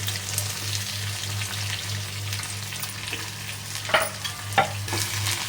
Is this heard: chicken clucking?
no